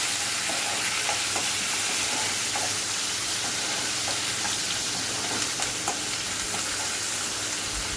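Asafoetida tempering sizzles in hot oil for instant mango pulihora, a loud, continuous crackling fry with no pauses or voices.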